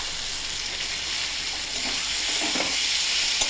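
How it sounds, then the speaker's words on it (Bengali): Prawns drop into a pan of cooked-down tomato and set off a steady hissing sizzle. Close stirring and scraping sounds break through toward the end. "তো আমি এই পর্যায়ে চিংড়ি মাছটা দিয়ে দেবো।"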